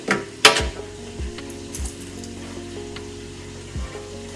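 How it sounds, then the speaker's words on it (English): Food sizzles and crackles in a hot pan, with a few clinks and scrapes of a utensil stirring, close up and without talk. "And I'm sure y'all hear me cooking."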